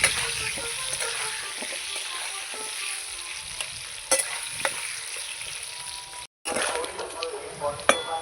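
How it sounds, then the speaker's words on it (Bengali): Salted potatoes fry in oil and are stirred until reddish, giving a constant close sizzle broken by scraping stirs and clicks, with a brief sharp cut-out near the end. "এবার আমি ভালো করে নেড়ে চেড়ে আলুটাকে ভেজে নেব লাল লাল করে"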